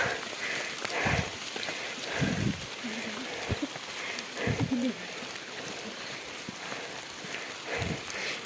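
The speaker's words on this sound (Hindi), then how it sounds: "बारिश लग पड़ी," Steady rain falling outdoors on a mountain footpath, a constant hiss of drops with occasional heavier thumps, while people talk intermittently over it.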